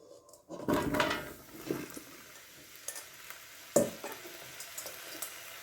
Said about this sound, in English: And once we saute these down, it's going to create a lot of juice.